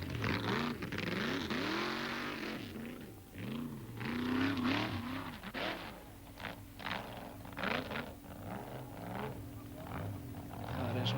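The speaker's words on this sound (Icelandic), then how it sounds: "Það er geysileg orka í þessum mótor líka." Rally race car at an event in Akureyri in 1992, its engine surging and dropping in pulsing revs while accelerating, loud and rough, with a commentator speaking over it throughout.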